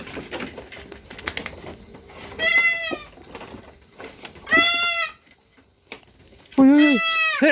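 A goat on a farm gives several loud, wavering bleats at intervals, close by, with quieter rustling and background noise between calls.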